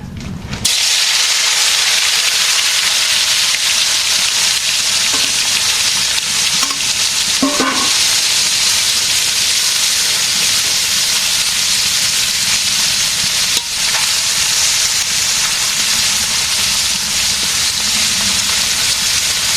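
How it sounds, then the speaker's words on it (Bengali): Fish frying in a pan in a village kitchen, a loud, continuous close sizzle and hiss that starts abruptly and holds steady, with a few faint utensil knocks and no talking. "এখন মাছ ভেজে নেয় আগে"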